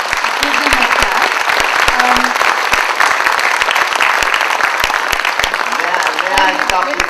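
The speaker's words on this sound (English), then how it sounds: "let's give them a clap." Applause from a seated audience at an academic book event fills the space with loud, continuous clapping and occasional sharp individual claps, a few voices briefly audible underneath.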